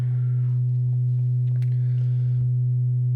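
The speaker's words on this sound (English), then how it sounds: "We'll take a sine wave straight from the NTO" A steady, loud sine tone from a Serge modular synthesizer hums continuously, with faint clicks and soft bleeps flickering over it.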